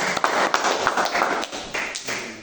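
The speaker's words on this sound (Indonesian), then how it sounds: "Kasih tepuk tangan dulu." Students in a classroom give a short round of applause, a quick patter of hand claps from a small group heard close and fairly loud, with an uneven rhythm and no talking.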